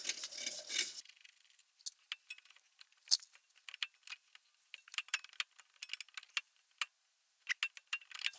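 On a Subaru BRZ rear brake, a bolt is worked loose with a wrench, giving a quick burst of rattling followed by many sharp, irregular metallic clicks and ticks, close and crisp against near silence.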